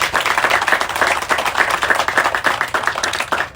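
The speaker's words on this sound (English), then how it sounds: "it's deserving of another round of applause" A round of applause from an audience at an airline partnership announcement, brisk, dense clapping that stays loud and steady throughout with no voices.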